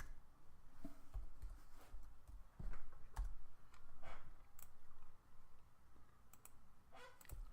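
Computer mouse clicks and keyboard typing while working in Photoshop, a quiet, uneven run of close, light taps and clicks with no talking.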